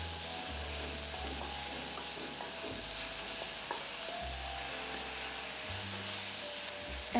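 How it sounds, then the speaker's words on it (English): Garlic sautés with a pinch of salt in a pan over the flame, giving a steady, close sizzle with stirring scrapes throughout and no talking. "we literally need to saute this just for a minute. Add a little salt and simply saute this"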